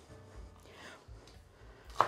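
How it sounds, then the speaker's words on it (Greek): A knife finely chopping small bunches of parsley and dill on a board, giving soft, faint rhythmic cuts with one sharper knock near the end. "ψιλοκόβω"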